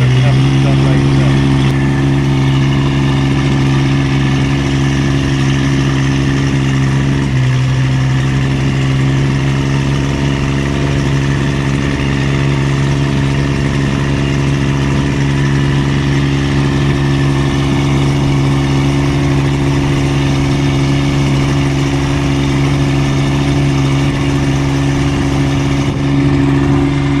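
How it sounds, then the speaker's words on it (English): A boat engine drones loudly and steadily throughout on an outing near Pranburi, Thailand, a constant low mechanical rumble with a brief shift in pitch early on and no pauses. "I don't know how good the sound is for the engine burning in the background"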